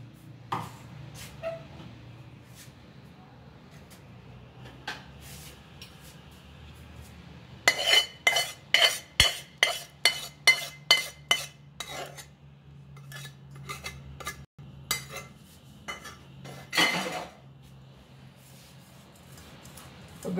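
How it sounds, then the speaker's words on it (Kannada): Metal utensils clink and tap against a pan while preparing a spice tempering in a home kitchen, with a quick run of rhythmic strikes in the middle and scattered softer knocks around it, faint and close. "ಇದಕ್ಕೆ ಸ್ವಲ್ಪ ಒಗ್ಗರಣೆ ಹಾಕ್ಕೊಳ್ಳೋಣ."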